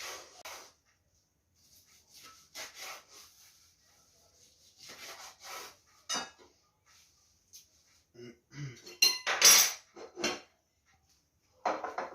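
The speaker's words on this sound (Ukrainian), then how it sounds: "зараз будемо нарізати ковбаску до ранкової кави" A knife slices sausage on a cutting board: close, short rasping strokes come in scattered bursts separated by quiet gaps, with some talking in between.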